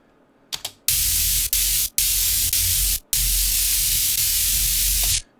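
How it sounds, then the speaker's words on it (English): Electricity effect built from white noise, with gating and a transient shaper: loud bursts of harsh crackling static hiss, cut into several chopped segments by sharp silent gaps, each burst starting with a punchy attack. "makes it pop more, giving that kind of static electricity kind of feeling"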